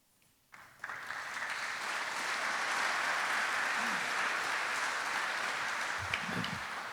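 Audience applause at a military change of command ceremony for the 164th TAOG, a sustained wash of clapping that swells in quickly, holds steady and starts to fade near the end, heard from within a large crowd.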